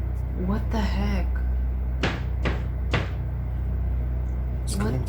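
Cupboard doors bang shut in a supposedly haunted apartment, three sharp slams in quick succession after muffled talk, with another knock near the end over a steady low hum.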